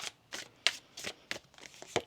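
Tarot cards are shuffled in a few soft, quiet riffling bursts, close by with brief pauses between them.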